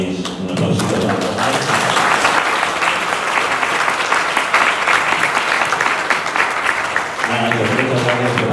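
Studio audience applauds at the close of a Spanish science-versus-parapsychology podcast recording, a dense, steady clapping that fills the whole stretch, with brief voices at the start and end.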